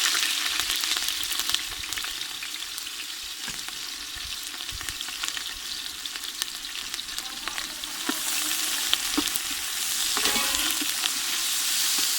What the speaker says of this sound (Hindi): सबसे पहले घी शामिल करके प्याज ब्राउन करेंगे।